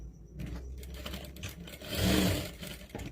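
A sewing machine stitches diagonally across a folded fabric belt for a crop top, giving a close mechanical whir that rises and falls, with a louder burst of running near the end.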